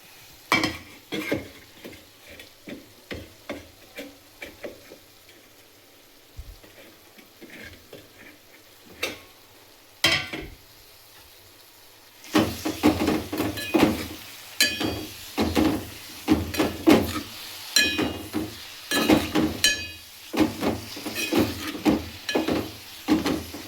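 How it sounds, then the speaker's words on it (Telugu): Amaranth leaves go into a pan of cooking moong dal and tomato and are stirred, giving a run of close, sharp scraping and clinking strokes over a soft sizzle that grows busier and louder partway through, with no voices. "ఇప్పుడు తోటకూర వేసుకుందాం"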